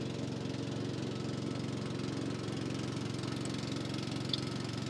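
A steady mid-pitched engine drones continuously and loud nearby, with an even rapid knocking pulse and no change in pace, while travelling through Southeast Asia.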